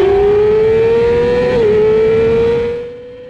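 An amateur middleweight SuperSport racing motorcycle launches from the back of the starting grid, its engine held at a loud, steady high-revving whine close by before easing off at the end.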